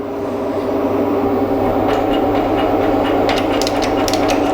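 A milling machine cuts across a workpiece clamped in a Vevor milling vise, producing a loud, continuous grinding hum with rattling, chattering bursts in the second half, close and uninterrupted by speech.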